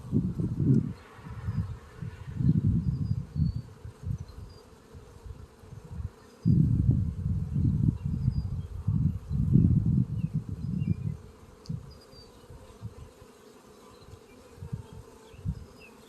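Honeybees hum in a dense, low drone around an open hive during an inspection, swelling in loud waves and easing off, with no talk.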